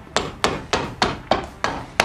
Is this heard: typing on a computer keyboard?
no